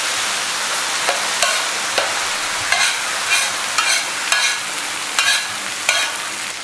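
Tomatoes, potatoes and peas for pav bhaji are stirred and roasted in a pan. A soft background sizzle is punctuated by a regular series of sharp spatula scrapes and clacks, about one every second, close and fairly loud.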